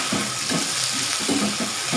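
Raw potatoes frying in oil in a pan being stirred, a continuous sizzle with soft scraping strokes at a steady pace, close and fairly loud.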